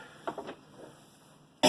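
A couple of short, soft coughs in a quiet room, followed by a sudden louder burst at the very end.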